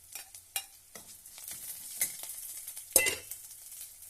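Green chili and ginger are stirred into a pan of hot oil for a sardine curry, with a soft sizzle and a few sharp scrapes and clinks of a spoon against the pan.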